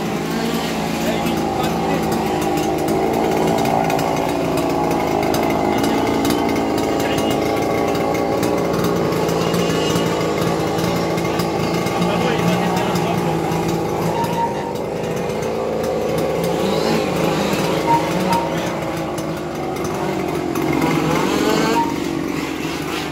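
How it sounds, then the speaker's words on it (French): Race car number 6 restarting during a 12-hour endurance race at Saint-Affrique with a faulty exhaust, its engine roaring loud and raspy in a continuous, unbroken drone, with commentary talking over it throughout. "la voiture numéro 6, visiblement, ils ont redémarré et il y a un problème d'échappement."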